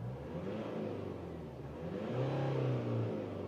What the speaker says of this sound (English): So it definitely sounds like a diesel when you're revving it window down